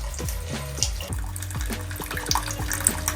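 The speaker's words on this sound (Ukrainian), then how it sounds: "Додаю ще один літр поживного розчину" Nutrient solution poured into a DWC hydroponic bucket growing a tomato plant, a steady close splash and trickle of liquid with faint drips, alone without talk.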